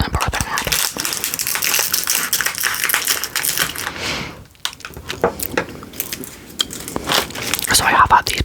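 A bite into an Oreo cookie brings crisp, close crunching and crackly chewing, mixed with soft whispered talk and a brief quiet pause midway.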